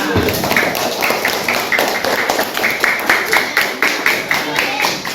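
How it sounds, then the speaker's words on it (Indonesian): Rhythmic, near group clapping from a class of students, steady beats in a repeating pattern that carry on for several seconds without a break. "Beri tepuk tangan semuanya"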